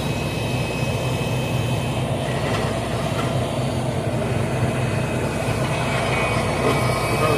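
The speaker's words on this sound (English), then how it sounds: "They're just waiting on that train to go by" A train on a maintenance-of-way rail line rolls past with a steady, continuous rumble and hiss that holds at an even, fairly loud level throughout, with no talking.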